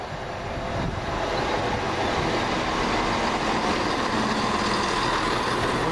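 A Northern Rail train, the 16:16 Hull service from Manchester Piccadilly, rumbles loudly and continuously nearby, a broad steady roar of engine and wheels building slightly over six seconds with no voices.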